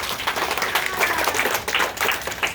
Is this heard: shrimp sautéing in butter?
no